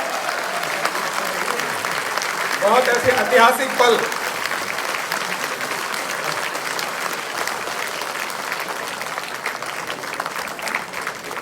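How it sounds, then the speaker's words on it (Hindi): Loud, sustained applause from a crowd at a celebration event in New Delhi welcomes a member of parliament, with someone speaking over it through a PA system. "जोरदार तालियों के साथ स्वागत कीजिए माननीय सांसद महोदय जी का"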